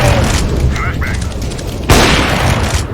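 A flashbang grenade detonates in PUBG, a loud sharp bang cutting through ongoing gunfire and rumbling battle noise, with voices calling out over the chaos.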